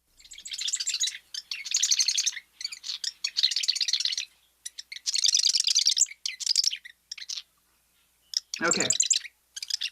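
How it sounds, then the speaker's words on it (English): Marsh wren song plays as repeated bursts of rapid, variable gurgling rattles, loud and close, separated by short gaps, with a single spoken word near the end. "Marsh wrens have a fairly wide distribution."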